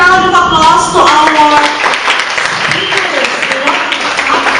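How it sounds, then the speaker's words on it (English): An audience at a discussion forum gives a round of applause: a dense patter of many hands clapping that fills most of the stretch, with a voice speaking over the start. "let's give a warm round of applause to our"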